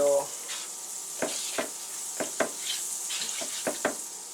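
Bread sizzles in butter on a hot griddle with a steady, bright frying hiss. Several short utensil scrapes and taps sound close over it.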